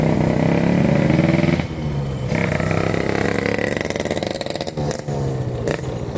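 Motorcycle riding across a makeshift emergency bridge put up after a landslide broke the original span near Leuwiliang, with a steady engine drone and rattling clatter from the deck, loud and close throughout.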